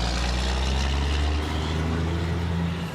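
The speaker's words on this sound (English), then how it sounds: "Loud ass truck." A loud truck rumbling past on a bridge between Ohio and West Virginia, a heavy, steady low engine drone filling the whole span, close and continuous, easing slightly toward the end.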